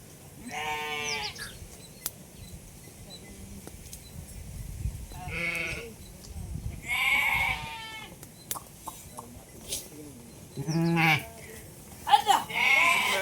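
Sheep at pasture bleat several times in short wavering calls, some close and loud, with people talking and quieter stretches between the cries.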